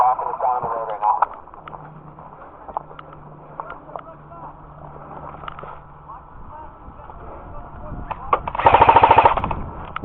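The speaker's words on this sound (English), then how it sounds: "We've got a squad weapon locking us down on the road right now." An airsoft squad weapon fires a fast burst of rattling shots near the end, preceded by scattered pops, while players talk and call out over radio during an outdoor skirmish.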